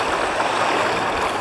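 Fast river current rushes loudly through a knee-deep ford near a Crimean beach, a dense, continuous close-up wash of churning water.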